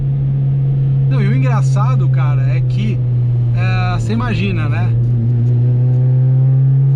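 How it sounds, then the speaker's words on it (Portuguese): A Subaru Vivio kei car with a 52-horsepower engine idles through its exhaust, a steady low drone that continues beneath a man's conversational speech. "eu dei essas pausas aqui para ouvir o escape, que ficou bem bacana"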